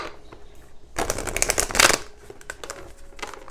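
Oracle cards are shuffled close by in a quick riffling burst of crisp flutters, then scattered lighter taps, with no talking.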